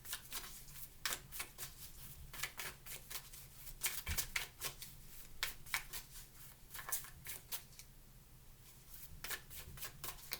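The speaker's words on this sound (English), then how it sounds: "I just shuffled for too long" Tarot cards shuffle in repeated quick riffling bursts, close and quiet, with brief pauses between shuffles.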